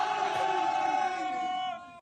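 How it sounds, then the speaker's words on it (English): A large crowd cheers and yells wildly at a public gathering, a dense sustained roar of voices that holds steady for about two seconds before cutting off abruptly. "Look at the crowd going wild."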